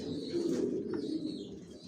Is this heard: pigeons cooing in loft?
yes